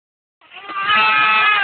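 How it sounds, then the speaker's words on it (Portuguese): A sheep on a small farm, where a ewe has just given birth to three lambs, gives one loud, close, drawn-out bleat that starts after a moment of silence and holds steady to the end. "Estamos com uma ovelha aqui no sítio, ó. Pariu 3 cordeiros."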